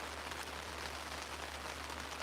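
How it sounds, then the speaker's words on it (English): Heavy rain pours down steadily at a lakeside fishing camp, a dense, even hiss close around the listener with no break and no voices. "skies opened up and it's been dumping rain ever since"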